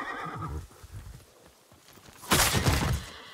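A horse in the samurai video game Ghost of Tsushima neighs and stamps nearby. Muffled hoof thuds and a snort are followed by a loud, bright whinny near the end.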